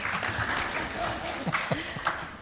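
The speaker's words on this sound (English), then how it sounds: "You really should applaud for everybody." Audience applause at a panel discussion on the peace process after Gaza, a fairly quiet, continuous patter of clapping hands heard at a distance, with a few voices calling out over it.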